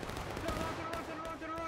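Rifle volley in the War of Rights historical battle game, a faint crackling burst of massed musket fire heard at a distance under the ambient din of the battlefield.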